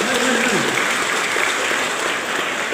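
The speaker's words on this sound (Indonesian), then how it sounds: "kita tepuk tangan saja" A church youth gathering claps together, dense steady applause from a crowd near and loud, with some voices mixed in throughout.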